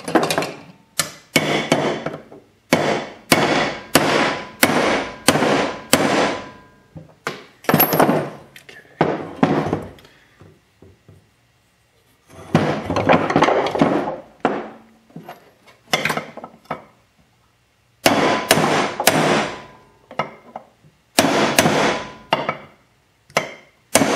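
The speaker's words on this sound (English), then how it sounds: "we're just going to hammer it" Sharp metallic hammer strikes drive bearings out of a 2004 Maico 500 engine, landing in fast rhythmic bursts of about a dozen blows, separated by short pauses, close and loud.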